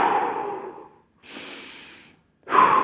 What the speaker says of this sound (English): From this position, take 2 massive breaths.